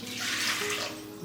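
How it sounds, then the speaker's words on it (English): Water, about 340 grams of filtered water warmed to roughly 84 degrees, pours steadily into a bowl for homemade sourdough bread, a continuous close splashing trickle with no talk. "now I'm going to add the water"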